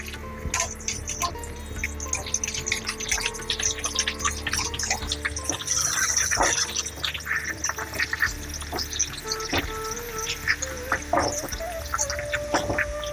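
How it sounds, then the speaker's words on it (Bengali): Ash gourd pieces fry in hot oil with salt and turmeric as they are stirred, giving a steady crackling sizzle broken by frequent sharp clicks and scrapes from the pan, with no talking. "চাল কুমড়োগুলোকে তেলের ওপর দিয়ে নিলাম এবার একটু নুন হলুদ দিয়ে নেড়ে চেড়ে ভাজবো"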